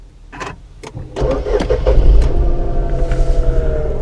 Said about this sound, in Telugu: కార్ ఆన్ చేసి చూపిస్తాను.